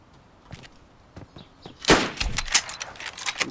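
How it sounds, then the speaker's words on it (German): A gunshot in the DayZ survival game, a single loud sharp crack at about two seconds, followed by a burst of rattling, clattering noise after several faint ticks and clicks. "Ein Schuss gehört"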